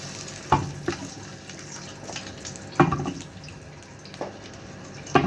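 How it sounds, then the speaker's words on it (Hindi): Ghee dropped into a pot on the stove, with a few sharp clatters and bursts of sizzle spaced out over a low background hiss, close and moderately loud. "मैंने पतीले को चूल्हे पे चढ़ा लिया। अब इसमें डाल देते हैं घी।"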